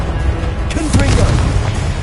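Fiery blast of the Confringo explosive spell in the video game Hogwarts Legacy, a loud booming burst with a rumbling tail, heard amid continuous game sound and a voice.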